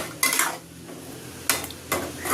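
Spices being stirred in a cooking pan for spicy misal: three bursts of scraping spoon-on-metal stirring, each roughly a third to half second long, separated by quieter gaps, close and fairly loud with no talk.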